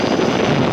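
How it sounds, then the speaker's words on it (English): Steady wind buffeting a microphone at Cleveland Hopkins airport, a continuous broadband roar with no pauses, loud and close throughout. "It is quite windy today"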